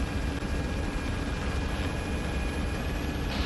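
A helicopter flying in for an insertion in the ArmA 3 military game, heard as a steady, dense rotor and engine roar that holds without a break.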